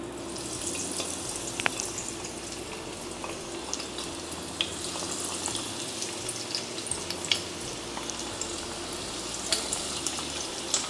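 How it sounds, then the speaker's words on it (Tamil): Chicken popsicles fry in hot oil, giving a continuous close crackle and bubbling sizzle with scattered sharp pops and spatters throughout, and no talking. "ஆயிலு நல்லா சூடாயிடுச்சு. இப்போ ஒன்று ஒன்றா நம்ம இதை சேர்த்துக்கலாம்."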